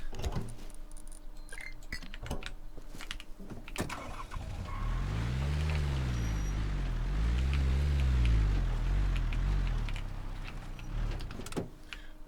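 A car engine in the survival game Rust cranking and catching after a few clicks and rattles, then revving up and down in rising and falling swells before settling, close and fairly loud, without talk.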